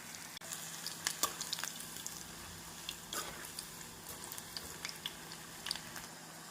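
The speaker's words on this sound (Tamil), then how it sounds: "நாம் அனைத்து காலிஃப்ளவரையும் இப்படி பொரித்து எடுத்து விடலாம்." Cauliflower florets deep-frying in hot oil on a high flame, a soft continuous bubbling sizzle with scattered crackles and pops, fairly quiet and close, with no voices.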